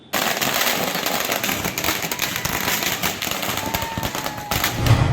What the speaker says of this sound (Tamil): மகிழ்ச்சியான ஊழியர்கள் மல்லாடி வீட்டு முன்பு பட்டாசு வெடித்தும் ஜெய் மல்லாடி என கோஷங்களை எழுப்பியும் கொண்டாடினர்